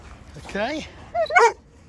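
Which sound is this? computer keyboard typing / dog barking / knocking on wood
dog barking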